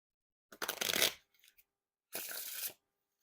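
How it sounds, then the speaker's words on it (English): A deck of slightly thick-stock Ramen Heads playing cards is riffle shuffled twice, each a close, crisp burst of rapid fluttering card flicks, the second followed by a brief bridge cascade. "And now time for the riffle shuffle or bridge shuffle."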